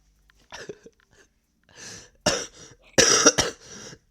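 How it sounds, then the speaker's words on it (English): A person coughs in a few short, sharp bursts separated by brief pauses, close and fairly clear in a quiet room. "Sorry about the cough."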